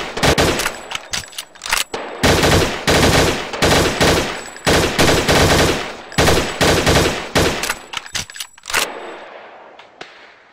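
Weapons fire in the mobile gun simulation game Gun Club Armory: loud, rapid bursts of automatic gunfire with metallic clinks and clangs between volleys, then a fade into quiet near the end.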